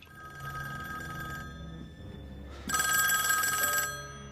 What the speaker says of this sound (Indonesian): tiba-tiba, sebuah telepon berdering